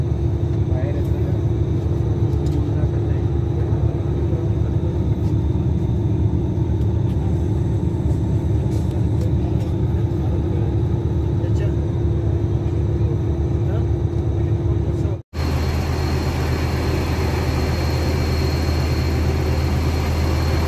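The engine of a VIP bus on an Umrah pilgrimage trip rumbles low and steady from inside the cabin, a constant heavy hum with a brief abrupt break near the end.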